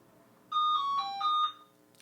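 A phone ringtone plays a short, bright electronic melody of a few tones lasting about a second, clear and alone in an otherwise quiet room.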